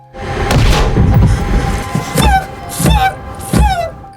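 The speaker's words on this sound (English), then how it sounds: "A gunshot rang out." Several heavy booms and thuds strike amid a dense, noisy scene aboard a hijacked plane, with a couple of sharp gunshot blasts standing out near the end.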